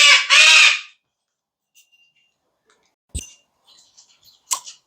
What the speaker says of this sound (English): Pardon the rude interruption from the bird.